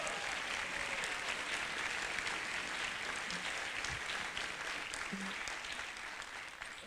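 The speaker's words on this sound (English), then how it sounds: "Let's give them a round of applause." An audience applauds at a Perlman Music Program Super Strings concert, a dense and even wash of clapping that keeps a steady level for several seconds in a large hall and eases slightly at the end.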